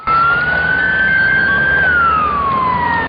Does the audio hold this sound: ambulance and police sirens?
yes